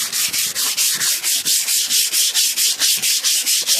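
Close-up sanding of faded paint on a 1988 Cadillac DeVille: a fast, regular run of around sixteen short abrasive strokes, evenly loud and uninterrupted, with no speech.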